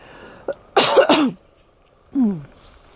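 A few close coughs: a single short one, then a harsh double cough, a pause, and one more.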